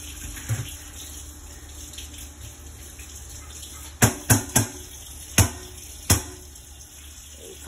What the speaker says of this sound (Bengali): এইভাবে আমার চালনিগুলি ধুয়ে ফেললাম